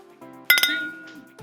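Whiskey glasses clink together in a toast, a quick cluster of three bright, ringing taps close by, followed by a lingering glassy ring and a faint voice.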